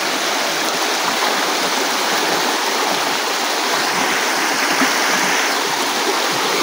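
Knee-deep stream water rushes steadily around someone wading through it, a loud, constant, close broadband flow with no talking.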